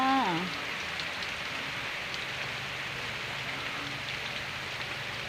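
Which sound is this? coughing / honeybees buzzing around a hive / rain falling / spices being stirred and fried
rain falling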